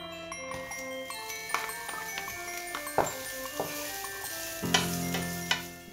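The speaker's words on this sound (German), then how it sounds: "Da geben wir Öl in eine Pfanne und schwitzen die Zwiebeln an." Onions sweat in oil in a pan with a faint, soft sizzle. Light clinks and scrapes of stirring are scattered through it, with quiet tonal sounds in the background.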